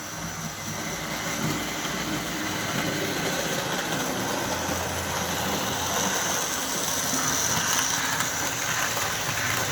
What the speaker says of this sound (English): It's just a little motor running.